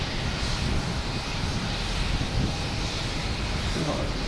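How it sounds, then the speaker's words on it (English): An American Airlines jet takes off at Boston Logan Airport, and its engines make a loud, steady broadband roar throughout. Someone speaks over the noise. "Wait for that American Airlines to take off"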